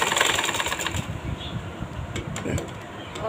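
A sewing machine stitching the waistband belt of a salwar, a close rapid mechanical chatter with uneven bursts and brief pauses, while a person talks over it.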